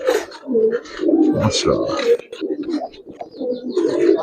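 Giribaz pigeons coo in low, throaty, close calls that repeat in short bursts, mixed with someone speaking over them.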